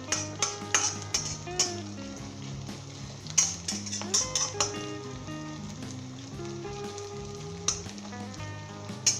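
Cabbage frying in a pan for a Pakistani cabbage curry, a steady close sizzle with frequent clinks and scrapes of a utensil stirring against the pot, no one speaking.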